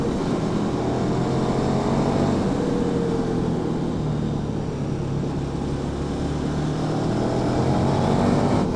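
A KTM 1290 Super Duke R, a 180 hp 2021 naked motorcycle, drones steadily while being ridden in the wet, engine and wind noise holding a constant loud tone without gear changes.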